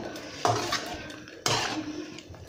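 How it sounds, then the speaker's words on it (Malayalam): A spoon scraping and knocking inside a cooking pot while beef curry is stirred, two distinct clanks followed by softer scraping, close and fairly quiet, without speech. "നമുക്കൊന്ന് ഇളക്കി കൊടുക്കാം."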